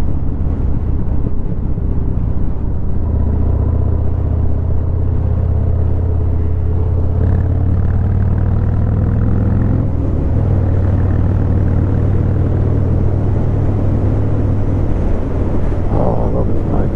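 A 2018 Harley-Davidson Fat Bob (FXFB) is ridden, with a loud, steady low engine rumble buried in heavy wind roar throughout.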